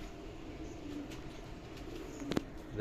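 Pigeons, short-footed teddy-type birds kept by a breeder, give soft low coos against a steady background hum, with one brief louder burst near the end and no talking.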